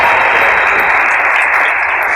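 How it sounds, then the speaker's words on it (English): A graduation audience applauds steadily and loudly, a dense wash of clapping from a large crowd that holds at full strength throughout with no voices over it. "So a round of applause for"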